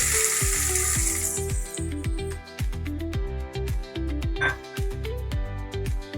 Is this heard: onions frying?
yes